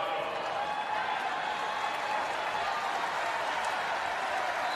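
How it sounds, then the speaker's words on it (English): A volleyball crowd cheers steadily for the Nebraska Huskers against Iowa in a 2019 match, a dense, sustained roar of voices and clapping filling the arena without letup. "Crowd trying to get the Huskers back into this"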